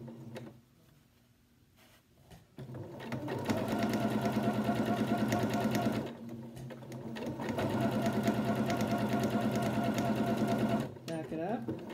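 A sewing machine stitches the curved seam of a fabric face mask in two long, loud, rapid runs separated by a brief pause, with a voice speaking over part of it.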